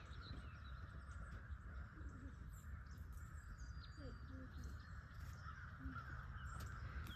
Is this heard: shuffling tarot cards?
no